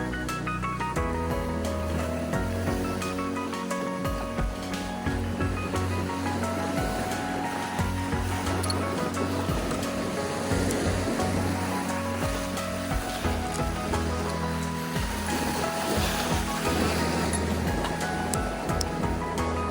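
Heavy sea surf crashes and churns without a break in Denmark, a loud, dense wash of water roaring close by with a deep rumble underneath.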